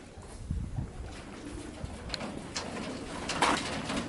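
Young racing pigeons coo softly inside a loft, low murmuring calls and scattered rustles overlapping at a moderate, close level without speech.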